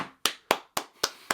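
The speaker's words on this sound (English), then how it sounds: "I got to go ahead and give you a quick little clap" Five sharp hand claps in an even rhythm, close and fairly loud, each one a crisp burst with a quick decay and no voices between them.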